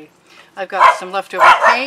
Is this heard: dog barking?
yes